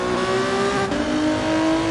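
Race car engine in a sim racing endurance event at Spa, a steady high-pitched whine with a brief dip as the driver brakes late, then climbs again, loud and close.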